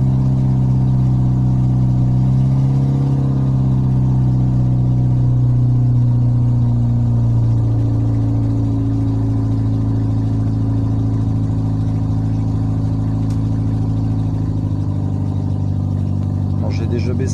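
A car engine warming up after starting with the choke partly on, a steady loud idle rumble with gentle rises in revs as the throttle responds, continuous and close.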